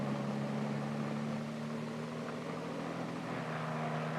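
A Hiller H-23 helicopter runs with a steady droning engine and rotor hum, constant and fairly loud with no break, heard alone.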